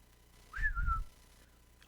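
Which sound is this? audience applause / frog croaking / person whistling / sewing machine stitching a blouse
person whistling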